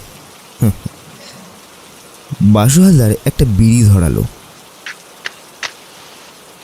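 Steady rainfall makes a constant soft hiss throughout, while someone narrates in a calm storytelling voice over it, broken by a few faint ticks and drips.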